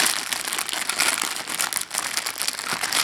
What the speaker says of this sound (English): So it looks like we'll just have to rip into this packaging